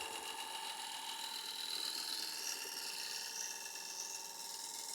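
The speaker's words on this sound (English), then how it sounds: "So now that's a little 1-inch scraper. Just refining the outside." A 1-inch scraper on a wood lathe refines the outside of an ash bowl, giving a steady, faint high-pitched whirring hiss of spinning wood and cutting edge, continuous and even with no talk.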